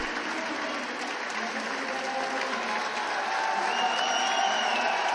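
A crowd at an esports event in Lille applauds and cheers for the Ascension semi-final, a dense steady roar of clapping that fills the space throughout, with a faint voice now and then.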